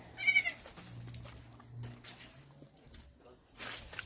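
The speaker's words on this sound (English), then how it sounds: "These are goats. They're rearing goats and sheep." Goats and sheep bleat repeatedly on a livestock farm in Nigeria, the loudest call near at the start and another toward the end, with quieter animal sounds and faint footsteps between.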